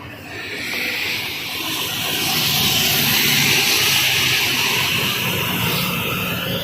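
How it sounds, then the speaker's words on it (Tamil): Heavy rain hissing steadily around a moving truck on a wet road near Kharagpur at dusk, a broad continuous wash of spray and drumming over a low engine rumble, loud and close throughout. "சரியான மழைங்க"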